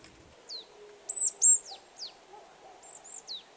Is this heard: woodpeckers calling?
yes